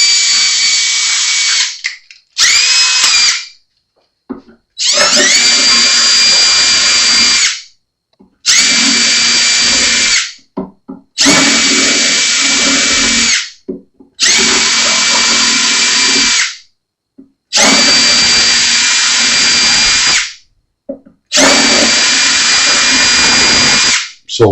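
An electric drill bores out the tuner holes on an Alvarez acoustic guitar in eight loud, close bursts of a few seconds each, its high whine rising at spin-up, separated by short silent pauses.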